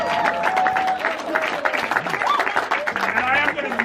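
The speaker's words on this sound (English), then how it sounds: "can we just have a huge round of applause for all of our graduates" Crowd at a gathering applauding graduates, with steady clapping running beneath loud talking and cheering voices throughout.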